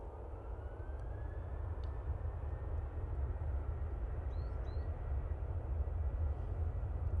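A Qatar Airways jet races down the runway at Manchester Airport, its broad engine roar steady and fairly distant, building slightly over the seconds with no talk.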